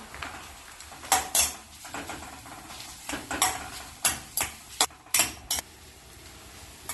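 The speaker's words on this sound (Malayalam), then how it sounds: "ഇതിനി ഇളക്കി വഴറ്റാം." A spatula stirs sliced onions with pandan leaves as they sauté in a pan for nasi lemak sambal, making a run of sharp metallic scrapes and clinks in irregular strokes over a quiet background.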